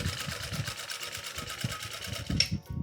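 A sewing machine stitches a fabric edge to an even width for a child's car-seat organizer, a steady rapid needle clatter close by, with faint speech in the background and a brief sharper click near the end.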